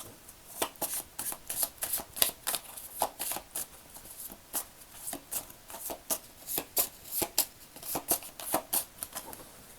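Gaia oracle cards being shuffled by hand: a quick run of crisp, papery riffles and flicks in an uneven rhythm, close and fairly quiet, with no talking.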